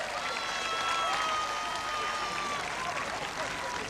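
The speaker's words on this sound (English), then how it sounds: "Your applause for 2 marvellous budgie runs" Audience applause at a 1981 championship knockout for two budgie runs, a steady dense wash of clapping with cheering mixed in, loud and continuous throughout with faint whistly tones riding over it.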